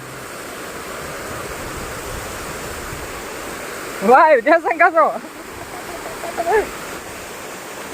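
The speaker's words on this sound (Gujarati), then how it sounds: "આ પાણી આ નર્મદાનું છોડ્યું છે" A steady roar of rushing water from the Narmada canal fills the scene, loud and continuous, with voices calling out briefly partway through.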